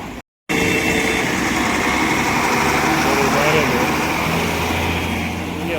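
Motorbikes ride past on a highway going against the flow of traffic, a steady roar of small engines and road noise that swells and fades as bikes approach and pass nearby, after a brief dropout at the start.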